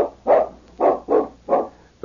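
A large dog barks four times in a steady rhythm, each bark full and fairly close, with quiet pauses between and no other voices.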